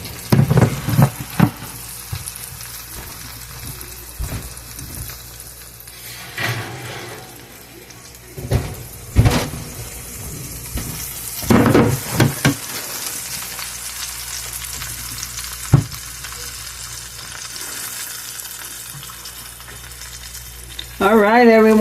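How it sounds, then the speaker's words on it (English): Cabbage steaks sizzle and fry steadily in a hot pan, with occasional clatter of utensils stirring and a few brief knocks. "you can hear that sizzling, and you can see we have cabbage steaks"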